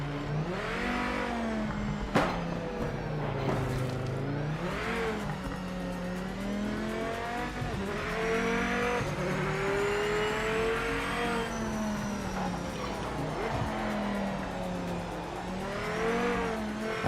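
A race car in Project Motor Racing revs hard through the gears with no driving assists. The engine pitch rises and falls over and over, tires squeal now and then, and the sound comes from the cockpit at a steady level.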